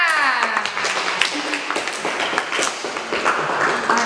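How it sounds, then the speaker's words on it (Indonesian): A classroom of students claps for a classmate, a scattered, uneven patter of hands over about four seconds, with some voices and a tonal sound mixed in near the start. "Oke, tepuk tangan untuk Umar."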